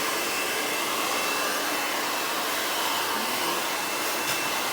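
A hair dryer blows out textured hair with a loud, continuous close-up roar that holds steady throughout, and no talking.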